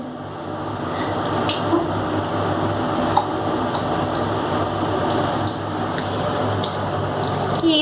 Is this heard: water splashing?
yes